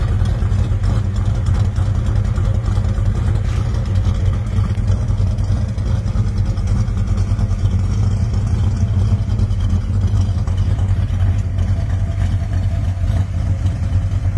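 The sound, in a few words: 1967 Plymouth GTX idling with Comp 292 camshaft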